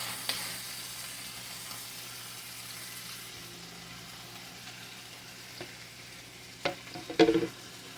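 Onions frying in melted butter in a pan over medium-high heat, a soft, steady sizzle with faint crackle, joined near the end by a few louder clinks and stirring clatter.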